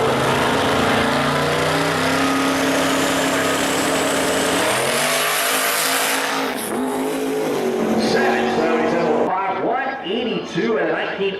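A 1956 Chevy Bel Air pro street drag car launching at a drag strip, an extremely loud roaring engine whose pitch climbs sharply, then fades and gives way to crowd noise, with an announcer talking throughout.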